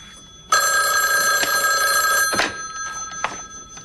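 An old-style telephone bell rings loudly and close by in one long, sustained trill, then stops, followed by a couple of faint clicks and knocks.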